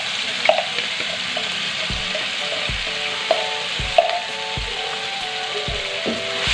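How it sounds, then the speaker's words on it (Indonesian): Ground spice paste for nasi goreng frying in hot oil, a steady close sizzle broken by several clinks and scrapes of a utensil stirring in the pan. "Lalu tumis bumbu sampai matang."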